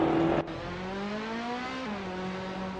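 Racing cars in a video game, including a 1966 Porsche 906, whine steadily at high revs with engine pitch climbing through gears, one clear shift dip, after a brief louder burst at the start.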